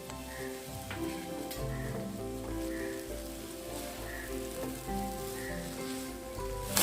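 Hakka noodles stir-fried with sauces crackle and sizzle steadily in a hot pan, with occasional scraping and tossing clatters from stirring, close and moderately loud throughout.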